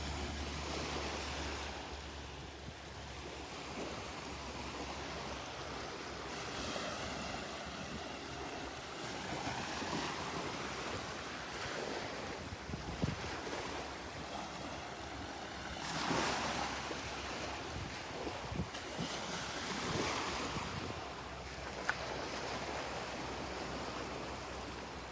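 Ocean surf rolling onto the beach at Naples Pier, a continuous wash of breaking waves with periodic swells and some wind buffeting the microphone, no voices.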